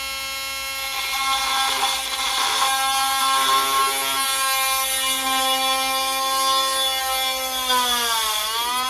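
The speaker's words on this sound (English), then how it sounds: "the drill's running, probably got the speed I'm happy with here" A power drill runs steadily at a set speed while boring into a piece of Seaham sea glass. Its continuous whine carries strong high harmonics, and near the end the pitch drops as the drill winds down. No voices are heard.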